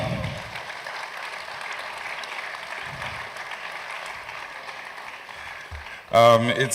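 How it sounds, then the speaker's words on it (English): Steady applause from an audience at a tech fair presentation, a dense sustained wash of clapping lasting several seconds before a voice breaks in near the end. "If we don't clap, they won't come up. So let's clap."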